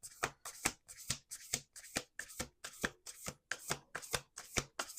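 Close-up riffle shuffling of an Urban Crow Oracle card deck: sharp, papery flutters repeat in a brisk, even rhythm, about three per second.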